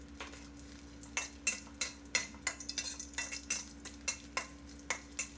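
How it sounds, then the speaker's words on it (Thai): Dried shrimp stir-fried in oil in a pan, with a quick series of spatula scrapes and taps against the metal over a low steady sizzle, close but quiet. "กุ้งแห้งเนื้อ2ช้อนโต๊ะให้เราผัดกุ้งของเราให้สุกหอมเลยครับ"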